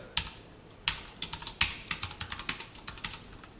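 Rapid keystrokes on a computer keyboard as code is typed, a string of light, fairly close clicks in uneven bursts with short pauses, no talking.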